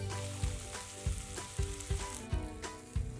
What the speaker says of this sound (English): Once the oil is hot, add the salmon and cook about 3 to 4 minutes per side or until golden brown and cooked through.